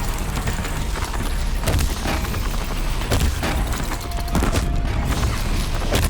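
Rapid bursts of sticky bomb explosions in Horizon Zero Dawn, loud and close, a dense series of booms and crackling blasts that rise and fall across the stretch with no talking.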